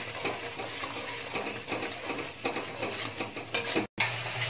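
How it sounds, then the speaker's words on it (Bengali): Spice paste for chanar dalna frying and being stirred in a pan, a constant close sizzle with scraping and clinking of the spoon against the pan, uninterrupted except for one brief dropout. "এবার ভালো করে একটু মশলাটা কষিয়ে নেব।"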